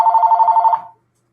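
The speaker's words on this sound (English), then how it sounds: "my phone starts ringing" A mobile phone ringing loudly and close, a rapid trilling electronic ring lasting under a second before cutting off into silence.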